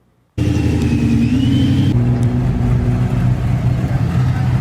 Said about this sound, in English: Got a pretty clean little C5, sounding good